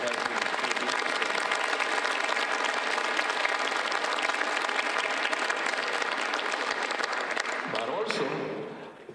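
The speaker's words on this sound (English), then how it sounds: "I really want to have a big round of applauses for our students worker, Ismael Rivera, Joyce Figueroa, and Ashley C" Audience applause at an awards celebration, a sustained dense clapping from a crowd that holds steady for several seconds before tapering off at the end.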